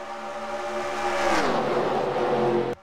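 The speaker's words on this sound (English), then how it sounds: "now Christian tries to get to the inside of Minter" Simulated race cars from the NASCAR Racing 2003 video game roar around Daytona in a 1949-style race, engines droning loudly and shifting pitch as a pack sweeps past, ending abruptly.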